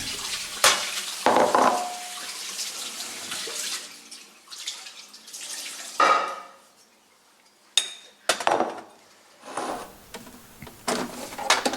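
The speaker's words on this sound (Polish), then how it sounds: "Opróżniamy pojemnik z wody." Water sloshes and splashes in bursts as the tank of a DeLonghi Magnifica S coffee machine is emptied, with clinks of the plastic container and quiet gaps between pours.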